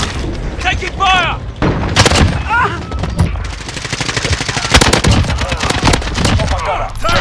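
Rapid automatic gunfire rattles in bursts from an AK-12 rifle in the video game Modern Warfare 2019, with explosions and shouted voices breaking through the loud, dense firefight.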